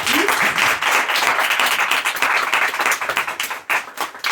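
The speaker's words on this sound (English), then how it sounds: "Round of applause." An audience at an equity and inclusion panel gives a round of applause, loud continuous clapping from many hands that thins slightly toward the end.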